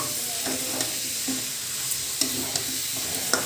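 Chicken pieces frying with spices for Bengali chicken kosa, a constant loud sizzle broken by repeated scraping and tapping of a spoon as the pan is stirred, no voices.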